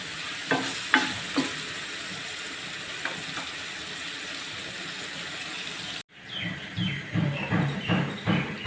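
Onion, tomato and ginger-garlic stirred in a frying pan for a dhaba-style butter chicken palak, with a steady sizzle under repeated spoon scrapes; after a brief cut the stirring gets louder and busier, and no one talks.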